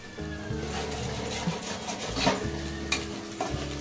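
Green chillies fry in a pan with a soft, steady sizzle while a spoon stirs and scrapes, giving a few clinks, all close and moderately quiet with no talk.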